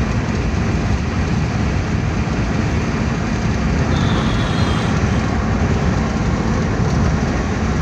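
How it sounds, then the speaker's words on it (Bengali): A Japanese car being driven from Dhaka to Comilla, its engine running smoothly after an oil change: a steady, continuous broadband road and engine rumble, loud and even throughout with no talk. "নতুন গাড়ির ইঞ্জিনের চেয়ে আরও সাউন্ড স্মুথ হয়ে গেছে।"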